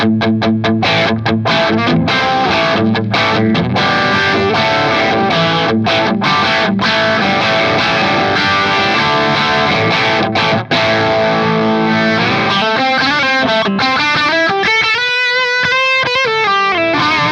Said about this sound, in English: Nice, that's a really good sounding overdrive.